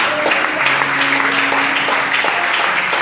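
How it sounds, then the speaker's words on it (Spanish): A church congregation claps in praise, a bright dense burst of applause over a sustained organ-like tone, fairly loud and steady from start to finish. "Denle un aplauso al que vive"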